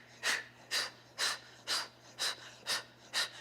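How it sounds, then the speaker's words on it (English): Heavy rhythmic breathing during an at-home beginner exercise workout, seven sharp, close breaths at an even pace of about two per second, with a faint low hum underneath. "Keep breathing."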